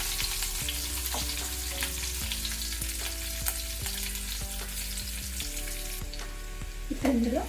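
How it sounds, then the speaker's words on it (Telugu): Green chilli pieces fry in a pan for cabbage fried rice, a continuous close sizzle with occasional light stirring taps, steady and moderately loud, and no talking. "పచ్చిమిర్చి ముక్కలు, ఇది కొంచెం వేయించుకోవాలండి."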